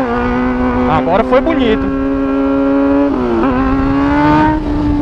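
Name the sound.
Honda Hornet motorcycle engine revving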